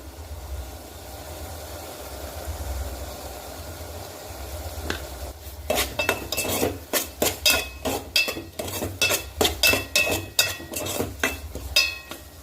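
A spoon scrapes and clatters rhythmically against a pan of cucumber and dried fish curry, with quick repeated metallic strokes over a low stove hum, starting after a few quiet seconds.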